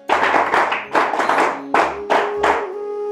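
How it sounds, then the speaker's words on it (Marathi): An audience applauds a school class at an event, with clapping in several loud bursts and brief pauses between them. A sustained musical tone sounds underneath. "त्यांच्यासाठी पुन्हा एकदा जोरदार टाळ्या वाजवल्या पाहिजेत"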